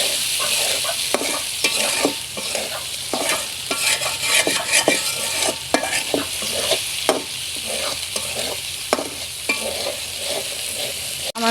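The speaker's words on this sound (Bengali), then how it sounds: "এখন আমি এটাকে সুন্দরভাবে কষিয়ে নিব একটু সময় নিয়ে" Masala for a catfish and potato curry sautés in a pan, with a steady loud sizzle and the rhythmic scrape and clink of a spoon stirring throughout, close by and without talk.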